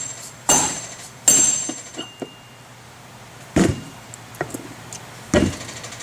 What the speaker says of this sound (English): So, got the pulley back up using a dead blow hammer.